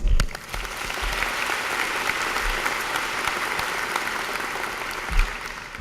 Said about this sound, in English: I would like to give these people a round of applause as well